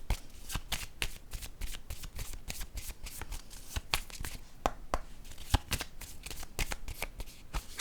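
Oracle cards shuffled by hand, a steady run of crisp riffling slaps and flutters repeating close up for several seconds, with no voice over them.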